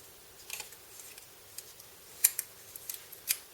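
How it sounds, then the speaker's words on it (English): Scissors snip through ageing tape in a few sharp, close clicks, followed by faint crisp tearing, all quiet against a hushed room. "Just give it a snip and tear it."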